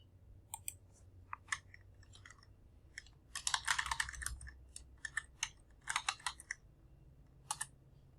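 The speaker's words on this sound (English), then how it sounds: "You hear me typing them, sending." Typing on a computer keyboard at a trading desk, starting as scattered single clicks, then turning into a dense burst of rapid keystrokes and further short clusters, close and fairly quiet with no talk.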